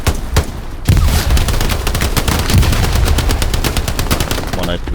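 Heavy gunfire and explosions from grenades in the World War II shooter Hell Let Loose, a dense continuous barrage of rapid shots and booms close by, loud throughout with faint voices under it.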